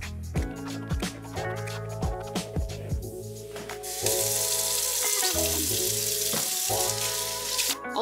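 Water runs from a kitchen sink tap while dishes are rinsed, with clinks and splashes of dishes first, then a steady close hiss of flowing water for the last few seconds.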